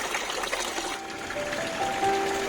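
Water splashes and trickles steadily from the small Fontanella degli Artisti wall fountain on Via Margutta in Rome, close and continuous, with faint tones from the street behind.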